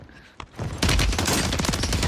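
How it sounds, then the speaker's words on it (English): Gunfire in the video game Warzone: a single early crack, then a loud, continuous volley of rapid shots from about the first second onward. "And someone else is sniping too."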